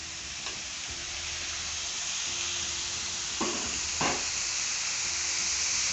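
Homemade beef burger patties fry in a pan with a continuous loud sizzle, broken by a few brief clicks and bursts of spatter.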